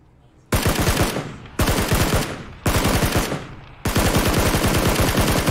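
Automatic gunfire from the battle royale game PUBG during a squads match, coming in four long sustained bursts of rapid shots, loud and close, with brief gaps between them.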